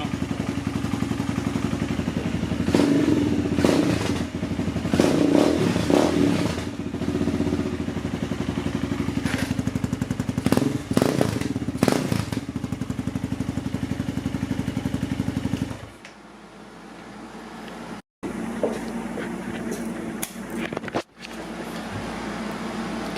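Honda CR230F dirt bike fitted with a CSC TT250 full exhaust system, idling with a raspy steady drone and several quick throttle blips, then the engine drops away near the end, leaving quieter rumbling with brief cuts.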